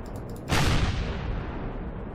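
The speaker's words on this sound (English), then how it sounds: "Okay, we just got a bunch of secondary explosions there." Explosions in the space video game Empyrion: a sudden loud boom bursts in after a short lead-in and rolls off into a long rumbling decay.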